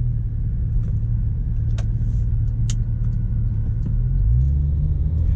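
A Porsche 997 Turbo is driven on the road, its engine giving a loud, steady low rumble heard from inside the car, with a slight rise in pitch near the end as it accelerates.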